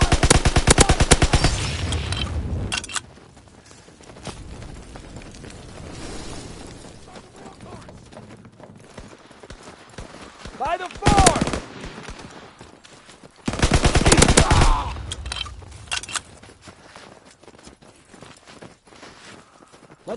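Gunfire and battle noise from the World War II shooter Call of Duty WW2 in multiplayer, with dense bursts of automatic fire at the start and again around the middle, sharp single reports between them, and quieter shuffling and movement in the gaps.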